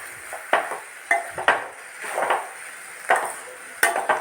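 Lentils, mustard seeds and cumin dropped into hot oil for tempering a dry fruit chutney, small crackling pops and light clinks of a spoon against the pan in scattered bursts, close and moderately quiet, with no talking.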